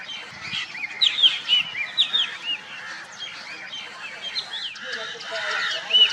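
A drongo calls near its nest, giving bright, varied whistles, chirps and sharp notes in quick bursts, loud and close against a quiet background.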